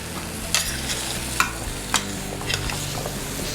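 Butternut squash fries and caramelizes in a pan with a constant close sizzle, and a utensil clacks against the pan a few times as it is stirred.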